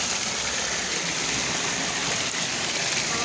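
Water thundering down over rock at a waterfall, a dense, steady roar that fills the whole clip, loud and close with no break or voices.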